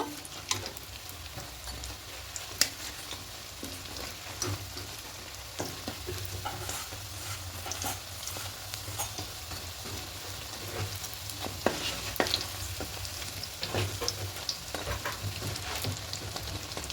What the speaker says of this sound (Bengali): এই পাঁচটা লাল লাল করে ভেজে নেব